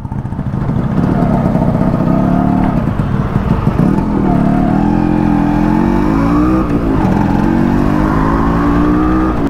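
A Yamaha RX100 motorcycle engine revving close by, loud and continuous with rising and falling throttle sweeps over a rough two-stroke rumble.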